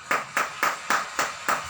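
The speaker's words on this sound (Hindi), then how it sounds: "आपके लिए तालियां तो बनती ही हैं" A small group claps for a guest in a radio studio, six evenly spaced hand claps in a steady rhythm, close and crisp.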